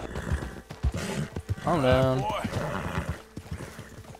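A horse in Red Dead Redemption 2 lets out a loud, wavering neigh mid-clip, surrounded by hoof clip-clops and a voice speaking over the game sound.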